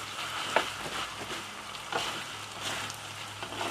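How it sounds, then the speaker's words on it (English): Pork rendang with turmeric leaves stir-fried in a pan, giving a steady, soft sizzle with occasional scraping and stirring knocks, no one talking. "Stir fry it for a while."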